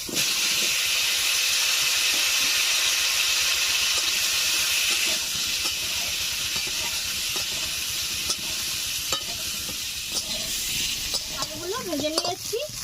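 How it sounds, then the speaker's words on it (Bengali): Water is poured into a hot pan of potatoes fried in leftover fish-frying oil for a village-style katla fish curry. A loud, steady sizzling hiss fills the scene and eases slightly over time, with a few stirring clicks near the end. "আলুগুলো ভেজে নিয়েছি, এখন দিয়ে দিচ্ছি জল"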